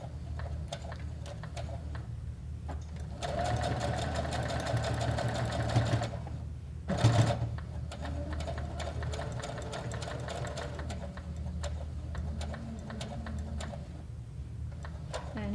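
Sewing machine stitching a fabric dog bandana, a steady close whirring hum that runs through, with a short pause and brief louder burst midway as stitching reverses, under a quiet room tone.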